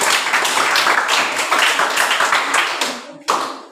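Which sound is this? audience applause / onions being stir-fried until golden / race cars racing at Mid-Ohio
audience applause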